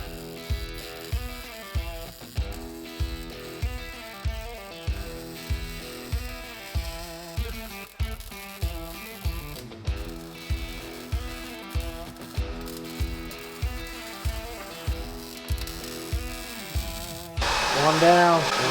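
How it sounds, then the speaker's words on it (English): Welding on the body of a Jeepster, a steady buzzing run broken into regular short pulses roughly every half second, loud and close, with the buzz swelling louder near the end. "I'm gonna weld this all in here."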